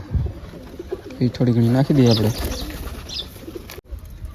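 Pigeons at a feeding spot give a few soft, close coos in the middle of the stretch while a person talks nearby.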